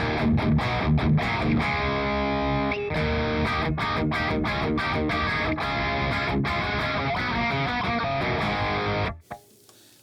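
A heavily distorted electric guitar through a Revv G3 distortion preamp pedal plays chugging metal riffs with crunchy sustained chords, loud and saturated, then cuts off abruptly near the end.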